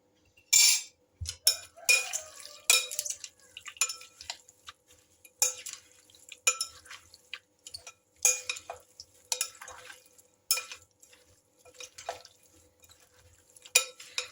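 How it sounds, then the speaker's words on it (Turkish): A green salad with mushrooms, oil and salt is tossed in a bowl, making close, intermittent bursts of crisp rustling and light clinks separated by short quiet gaps, with no voices. "Şöyle hepsini harmanlıyorum."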